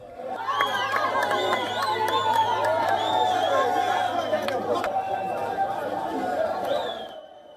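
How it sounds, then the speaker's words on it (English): A street crowd in a city center erupts in steady cheering and excited chatter as rebel fighters march and drive in, with whistles cutting through the continuous roar. "people on the streets clapping and cheering on as the fighters marched and drove into the city center"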